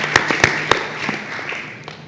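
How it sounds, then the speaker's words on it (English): An audience at a human rights event applauds Madame Hassan, a burst of clapping with a few sharp claps standing out at first, then fading into a softer, reverberant patter. "Let us clap Her Excellence, Madame Hassan, in a big way."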